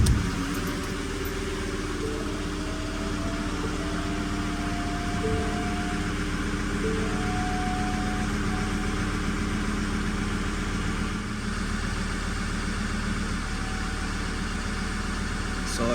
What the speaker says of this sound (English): From now, let's start the engine.